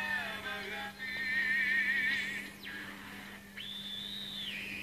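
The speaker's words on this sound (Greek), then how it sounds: "Εδώ αυτό το σφύριγμα που ακούγεται είναι φυσιολογικό του ρέτζεν" A regenerative AM radio receiver tuned across medium wave gives off shifting electronic whistles, rising and falling tones over a steady low hum and static hiss, with no voices.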